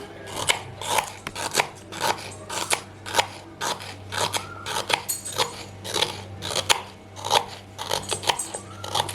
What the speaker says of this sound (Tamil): இப்போ பொடிசாக கட் பண்ணிக்கலாம்